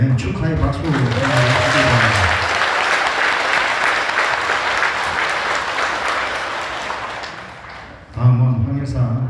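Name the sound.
audience applause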